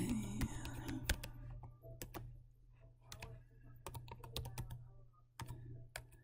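Typing on a computer keyboard at home: quick, irregular clusters of crisp key clicks and taps run throughout at close range over a low steady hum, with no speech.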